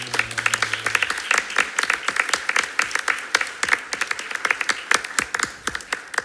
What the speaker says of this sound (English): he deserves our applause and everything